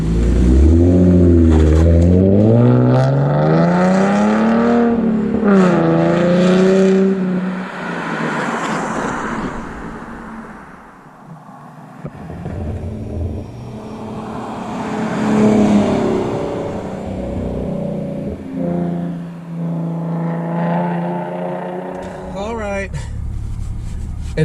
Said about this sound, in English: Oh man, I'm gonna miss that sound of that exhaust.